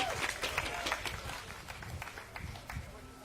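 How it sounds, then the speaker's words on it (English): Brief scattered applause from a crowd at an outdoor voting-rights rally, a few seconds of uneven clapping that thins out, with some voices underneath. "Final round of applause for them."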